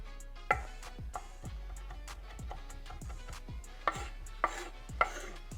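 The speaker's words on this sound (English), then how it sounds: "we're gonna chop up some parsley and some cilantro" Knife chopping fresh parsley and cilantro on a cutting board, a steady series of crisp close taps with a few louder strikes, no talking.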